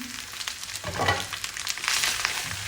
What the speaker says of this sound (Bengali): আমি চিংড়ি ফ্রাই করবো